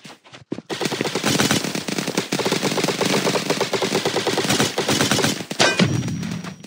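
Rapid automatic gunfire in the Roblox airsoft game around a warehouse, loud and near, with dense unbroken bursts of shots that carry on for several seconds and end in a few scattered rounds.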